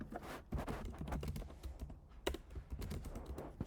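Rapid, close keystrokes clatter on a computer keyboard as test code is written for a React app, a continuous fast run of clicks with brief pauses.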